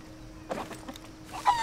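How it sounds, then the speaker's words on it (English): A chicken in the video game Sea of Thieves gives a few short, soft clucks, quiet bursts spaced irregularly over a low background hum. "Oh, I hear a chicken."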